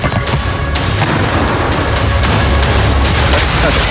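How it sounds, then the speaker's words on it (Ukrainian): Loud, dense booming blasts of gunfire or artillery in combat in rapid irregular bursts, continuous and close throughout. "Постріл!"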